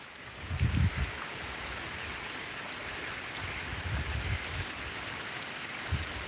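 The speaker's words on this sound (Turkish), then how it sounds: "Baya bir yağıyor arkadaşlar sel selsele." Heavy rain falling in a village, a steady soft hiss of downpour at low level, with a few dull thumps and low rumbles rising briefly near the start and later on.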